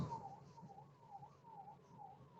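A faint ambulance siren wails in a repeating rise-and-fall pattern, coming up from behind on a two-way road under a steady hum of traffic.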